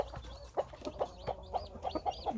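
A Cheonggye mother hen clucks over and over in a steady rhythm while her naturally hatched chicks peep in thin, high chirps all around her, close by.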